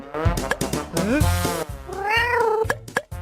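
A cartoon cat in a Thai-dubbed Minecraft animation gives a run of loud, drawn-out meows and yowls, several rising and falling calls in quick succession, close and clear.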